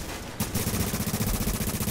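Rapid automatic gunfire in Tom Clancy's The Division bursts in abruptly after a brief lull and then rattles on steadily, loud and close, with a dense repeating rhythm of shots.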